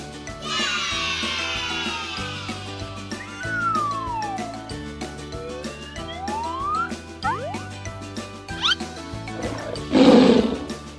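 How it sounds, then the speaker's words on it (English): Lion roars in a kids' animal-sound lesson, one deep growling roar swelling near the end, preceded by a stretch of bright, playful music with sliding tones and no voices. "Can you guess this animal? It's a lion!"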